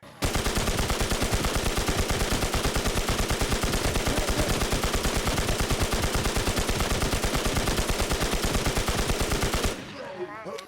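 A Kruger .22 rifle fires at a boss in the video game Infestation, a loud, rapid, unbroken stream of shots for nearly ten seconds before it stops abruptly, leaving a quieter tail of game sound.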